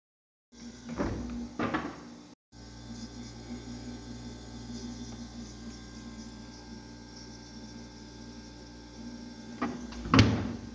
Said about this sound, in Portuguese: agora vou pegar o meu café que eu deixei ontem à noite na geladeira